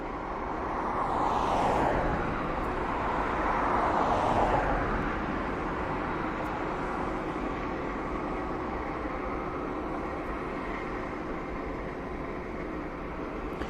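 An aircraft taxiing at East Midlands Airport gives a steady, distant engine roar with broadband rushing noise that swells briefly early on, then holds at a constant low level.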